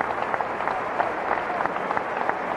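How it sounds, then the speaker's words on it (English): Basketball arena crowd gives a senior player a warm, sustained round of applause at a 1995 college game between Michigan State and Wisconsin, dense and even throughout. "And the senior is getting a nice round of applause here."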